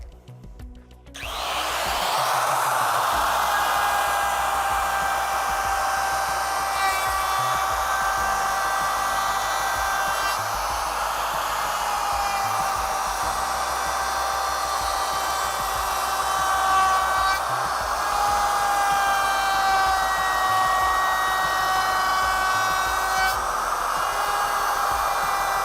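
A router moves counterclockwise around the edge of a wooden tabletop, its high whining motor starting up and then running loud and steady for the rest of the clip, the bit cutting continuously.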